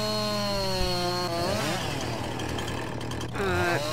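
Chainsaw cutting through a tree in the farming game Farming Simulator 19, a steady loud engine drone throughout whose pitch dips and rises as the cut progresses, alone without talk.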